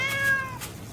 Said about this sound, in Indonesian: Sambil memberi makan kucing jalanan, dia terus menunggu.